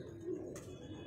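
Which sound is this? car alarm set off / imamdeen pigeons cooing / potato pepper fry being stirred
imamdeen pigeons cooing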